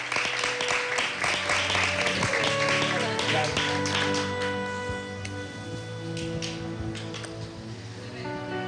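A television studio audience applauds to welcome a guest. Steady, fairly soft clapping runs through the whole stretch and thins slightly toward the end.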